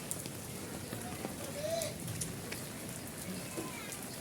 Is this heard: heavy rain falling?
yes